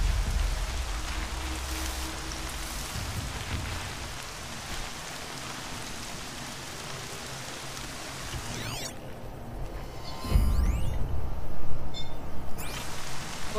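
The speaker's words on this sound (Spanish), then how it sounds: "La lluvia suena como si fuera un redoble de tambor." Steady rain pours down in Horizon Zero Dawn, a dense drumming hiss that fills the scene throughout and swells louder near the end, with no voices over it.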